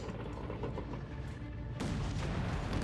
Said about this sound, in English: everyone's firing on the anti-tank guns, making sure no one gets it